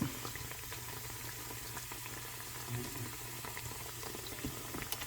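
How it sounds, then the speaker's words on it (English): Steady frying sizzle from dough frying in shallow oil in a regular frying pan, a constant soft crackle with faint pops, fairly quiet and unbroken. "I've always done it in just a regular frying pan with just enough oil to fry it."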